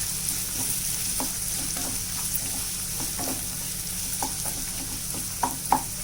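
Carrot and ivy gourd fry is stirred in a hot pan, a close, constant sizzle broken by a few light scrapes and clicks of the spoon against the pan, with no talking.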